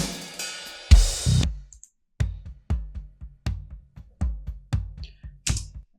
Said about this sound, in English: So I combined the original toms, they sound like this.